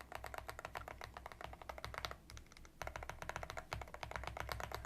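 Rapid typing on a keyboard fitted with Gateron G Pro 3.0 switches, dense crisp clacks in a fast steady run with one brief pause, close and clear with no talk.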